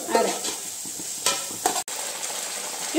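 Gobi manchurian sauce with soy sauce and tomato sauce is stirred in a sizzling pan, giving a steady close hiss with scraping strokes and a few sharper clinks.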